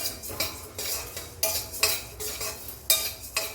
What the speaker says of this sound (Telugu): ఇవన్నీ ఇట్లా డ్రై రోస్ట్గా చేసుకోవాలి ఆయిల్ ఏం వాడట్లేదు